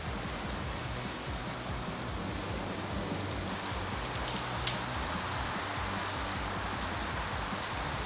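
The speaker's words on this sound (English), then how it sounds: "It's really raining today," Steady rain falling, an even hiss of drops on surfaces with no breaks, moderately loud and continuous throughout.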